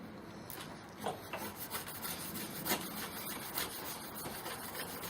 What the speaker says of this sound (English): I think it's gouging the bamboo a little bit